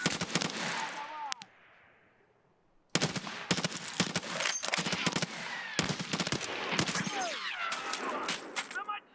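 Gunfire in the shooter game Escape From Tarkov: loud, sharp bursts of rapid shots with a brief quiet gap, then more volleys of automatic fire, close and harsh, with a voice briefly audible among them.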